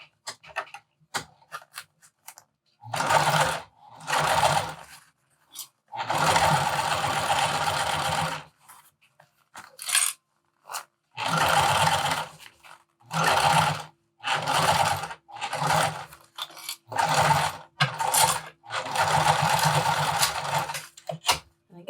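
A sewing machine stitches fabric for a wristlet in repeated close bursts of rapid mechanical chatter, with short pauses and faint clicks between runs and no talking.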